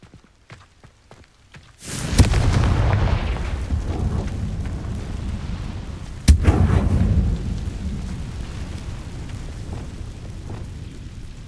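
A Confringo fire spell in the Hogwarts Legacy video game bursts into a loud, rumbling explosion after a short quiet lead-in, then a second sharp blast hits a few seconds later, each followed by a long roaring decay.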